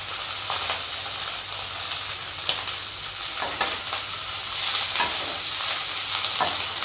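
Broken ridge gourd peel sautés in a hot pan for a chutney, giving a steady crackling sizzle with periodic scraping stirs of a spatula, close and continuous.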